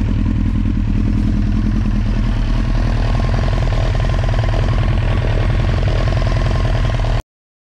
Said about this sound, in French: bruit dans la boîte de vitesse.